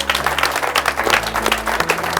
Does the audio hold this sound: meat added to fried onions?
no